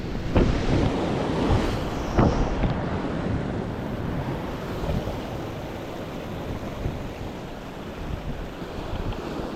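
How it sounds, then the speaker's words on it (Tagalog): Ocean surf breaks steadily on a Palawan shore during ultralight casting, a continuous loud wash of waves with strong wind buffeting the microphone. "Kita nyo yung alon guys, yung lalaki."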